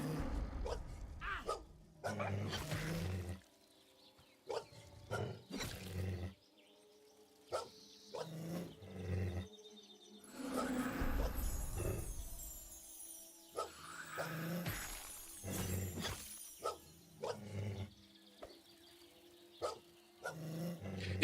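A dog in the Monsters & Memories video game barks and growls repeatedly over about twenty seconds, bursts of snarling and yapping mixed with combat noises, some stretches fading to near quiet.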